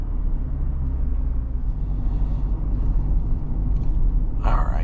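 A 2026 Chevrolet Colorado pickup's engine hums with steady low rumble under acceleration, heard from inside the cab, with road noise throughout and a brief voice near the end.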